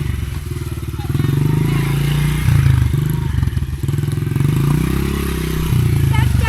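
A dirt bike engine buzzes and revs loudly in rising and falling surges while a rider practices donuts on dirt, close and continuous throughout.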